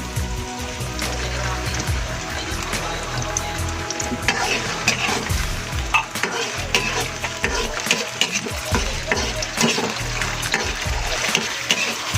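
Canned sardines hit a pan of sautéing onions, a loud, continuous crackling sizzle with stirring and scraping throughout.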